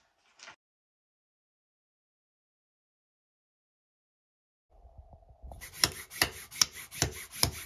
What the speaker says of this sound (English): I used this other wallpaper tool that I had to gently rest my blade along it to cut a straight line on the corner